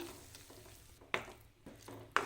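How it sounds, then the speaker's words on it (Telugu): Tomato puree frying in oil for a paneer curry, a soft steady sizzle with a couple of sharp stirring scrapes against the pan, faint and close. "ఒక రెండు మూడు నిమిషాల వరకు ఈ ప్యూరీని కూడా ఆయిల్లోనే కాస్త ఫ్రై చేసుకోవాలి"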